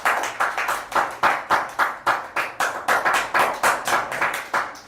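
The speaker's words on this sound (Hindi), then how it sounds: "सारे बच्चे ताली बजाएंगे शाम के लिए यार, बहुत बढ़िया।" A group of schoolchildren clap together in a classroom, a steady run of loud, evenly spaced handclaps that carries through the whole stretch with no talking over it.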